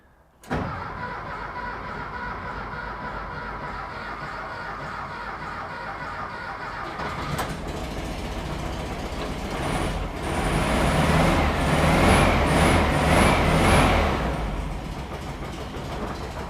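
A 1963 VW single cab's starter motor grinds steadily for several seconds, then the engine catches and runs louder and rougher, with a high whine rising and falling near the end.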